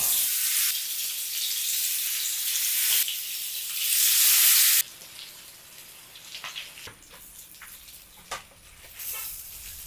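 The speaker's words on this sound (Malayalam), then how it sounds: "ഇനി ഇതിലോട്ട് നേരത്തെ തയ്യാറാക്കി വെച്ചിരിക്കുന്ന ചിക്കൻ ചേർത്ത് വറുത്തെടുക്കാം" Steady loud sizzling of chicken frying in hot coconut oil, settling into quieter crackling and occasional stirring scrapes.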